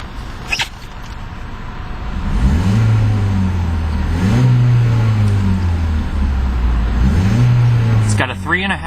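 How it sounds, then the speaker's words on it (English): A 2012 Ford Focus SE Sport hatchback's 4-cylinder engine, stationary in park, revs up three times. Each surge rises and falls in pitch, and it idles low between the revs. It is close and loud, and no one talks. "let's take a listen to that 4-cylinder engine"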